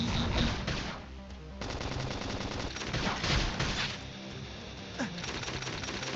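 Rapid bursts of automatic gunfire crackle through a battle in the Nintendo Switch game Xenoblade Chronicles Definitive Edition, dense and continuous with brief dips, set against music and game effects.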